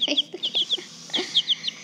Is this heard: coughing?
no